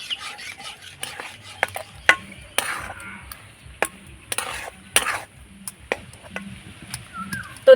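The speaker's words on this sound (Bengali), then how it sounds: "এবার হালকা আঁচে নাড়াচাড়া করে দইয়ের পরিণত করে নেব।" Semolina and milk are stirred into a dough in a pan over low heat: scraping, rubbing strokes with sharp knocks of the spoon against the metal, irregular and close.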